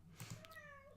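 A pet cat meows close by, a short rising and falling call with a steady tone drawn out over about half a second above a low background hum.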